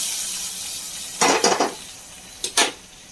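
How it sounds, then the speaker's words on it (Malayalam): Fried mustard seed tempering for a simple Kerala moru curry is poured into the pot, giving two short bursts of bright, hissing sizzle close by over a quiet kitchen background, with no talking. "നമ്മുടെ കടുക് വറുത്തതൊക്കെ ഇതിലേക്ക് ഒഴിച്ച് വെക്കണം."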